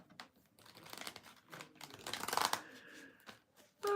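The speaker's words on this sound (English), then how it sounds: "Because now I get to shuffle them all over again." A deck of tarot cards being shuffled, soft crinkly riffling and rustling in quick bursts, close and fairly quiet, with no one talking.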